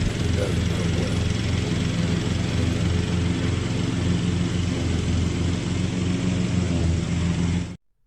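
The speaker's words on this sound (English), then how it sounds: "you'll hear this thing. It sort of downshifts and gives itself some gas, and it pulls right up this hill" A Cub Cadet lawn mower engine drones loud and close, downshifting and giving itself gas as it pulls up a hill, a steady low hum that cuts off abruptly at the end.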